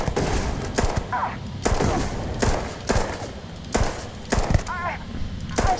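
XM 2311 pistol firing in Starfield, a run of sharp single shots spaced roughly half a second to a second apart, loud and close, with faint electronic chirps between some shots.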